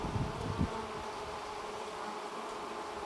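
Honeybees hum steadily around a queen at the hive, a dense, continuous buzz heard up close and alone with no talk, and a few soft handling bumps early on.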